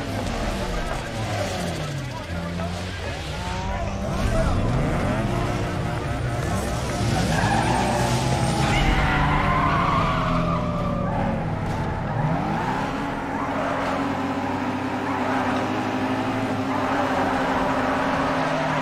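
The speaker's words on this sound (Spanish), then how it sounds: "otro derrape más" Engine and sliding tires from a drifting car in Need for Speed Underground 2, with a revving motor sweeping up and down, long tire skids and squeals, and a voice talking over it.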